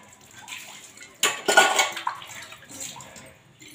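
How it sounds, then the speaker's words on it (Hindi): Dishes, pots and utensils being washed at a home kitchen sink, with running water splashing and metal and ceramic clinking, loudest in a burst of scrubbing and clatter midway, no talking. "बर्तन साफ करने लाग रही हूँ।"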